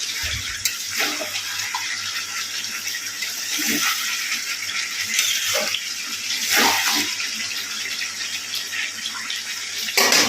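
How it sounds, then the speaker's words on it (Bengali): Water poured steadily into a cooking pot, a continuous splashing rush lasting throughout with a few soft knocks, close and fairly loud. "এবার জল দিয়ে দেবো"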